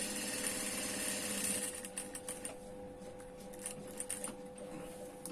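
Sewing machine stitching a neckline, a steady mechanical whir with a clear motor hum that gives way after a couple of seconds to a quicker run of light clicking stitches, heard up close and fairly quiet.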